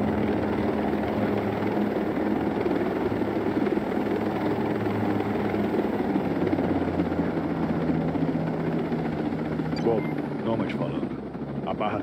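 Steady whirring rotor-like drone of a swarm of drones in a video game fills the scene, loud and continuous, with a voice talking over it and faint clicks near the end.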